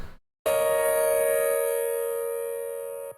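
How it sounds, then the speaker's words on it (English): A piano run through a Defacer distortion plugin after EQ gives one loud, harsh, bright sustained chord with buzzing upper overtones that rings out for about three seconds, alone. "So with the defacer, it sounds like this."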